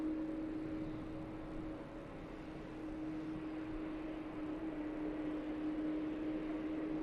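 Global Airlines Airbus A380 taxiing toward the runway holding point at Manchester Airport, a steady distant engine drone with a constant tonal hum throughout, moderately faint and without speech.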